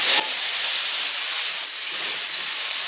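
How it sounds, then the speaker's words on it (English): Steady, loud broadband sizzling of chunky vegetables frying in a hot pan on high heat, a continuous hiss with slight swells, no voices. "Sizzling up so good at that."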